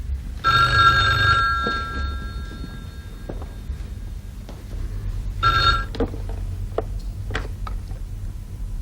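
An old landline telephone bell rings indoors in a classic drama scene, two loud jangling bursts a few seconds apart separated by quiet, with faint ticking and small clicks between the rings.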